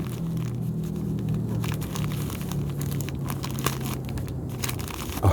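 Plastic bags crinkle and rustle steadily at close range while a flint and steel kit is packed, the crackling texture continuing throughout with no voice present.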